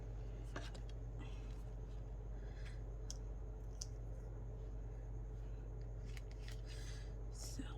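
Scissors cutting down a bow for an autumn paper-craft tag, a few soft close snips and clicks over a low steady hum, with a quiet voice murmuring faintly.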